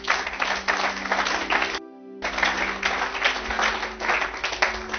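A church congregation at a Sunday service applauding, a dense, loud wash of clapping that drops out briefly and then resumes just as full, with no one speaking.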